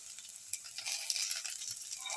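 Garnish sautéing in a pan for a cumin, shallot and chili dip gives a soft, steady sizzle with a few small clinks, faint and close, with no talk.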